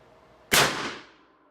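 A single rifle shot fired at a target on a range, a sharp loud crack at mid-clip that decays over about half a second.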